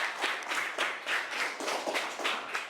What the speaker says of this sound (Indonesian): Tepuk tangan dulu karena sudah presentasi.